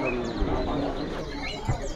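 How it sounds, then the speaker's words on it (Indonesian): F1 canaries for sale at a bird market chirp and twitter continuously, with faint cooing and crowd murmur underneath, at moderate distance. "Ini burung udah pada ngeriwik semua ya."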